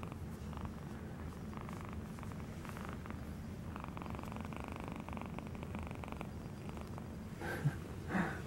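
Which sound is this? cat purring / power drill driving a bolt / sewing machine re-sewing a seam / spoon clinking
cat purring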